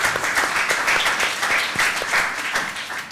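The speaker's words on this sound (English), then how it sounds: "I thought that deserved a round of applause, actually." An audience at a business talk breaks into a round of applause, a dense and fairly loud burst of many hands that holds steady before easing slightly at the end.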